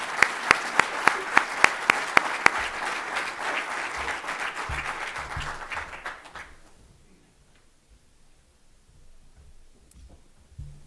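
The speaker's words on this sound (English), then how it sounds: "can we give a round of applause to Marima and her team for putting this on?" An audience at an energy industry conference plenary session applauds, a few loud, sharp individual claps standing out at first, then the clapping fades out after about six seconds into a quiet room with faint murmurs.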